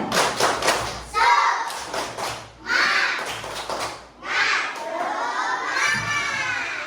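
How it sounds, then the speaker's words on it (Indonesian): Schoolchildren in a classroom do a rhythmic spirit clap, with thumping patterned claps alternating with loud bursts of shouting and cheering in several close, energetic rounds. "Tepuk semangat."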